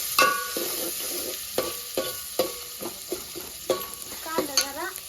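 Onions frying in a pan, a close spoon stirring and clacking at irregular intervals over a soft sizzle, with no one speaking.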